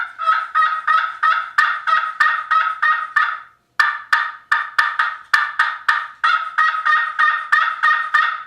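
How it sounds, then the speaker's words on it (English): A slate-style turkey call played by hand, giving rapid rhythmic yelps and sharp cutting notes in repeated clucking bursts, loud and close with a brief pause midway. "this call here It's got great sound and great pitch and everything with it for yelping, cutting, everything"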